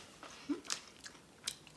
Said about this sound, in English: crispy wafers filled with smooth hazelnut cream covered in milk chocolate